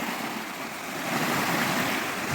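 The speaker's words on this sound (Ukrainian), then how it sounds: "хвиля." Small waves wash along the Dnieper River shore at Borovytsia, a steady, soft rush of water mixed with light wind noise, continuous and fairly close, with no voices.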